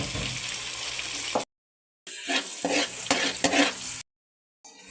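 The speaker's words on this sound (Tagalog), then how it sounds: "Gisa lang muna tayo. Sibuyas nang ilagay. Bawang. Kamatis." Onion, garlic and tomato sauté in a pan, sizzling with stirring clatter in short bursts separated by abrupt silent gaps.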